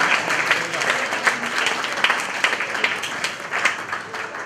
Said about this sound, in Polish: Ogromne brawa dla...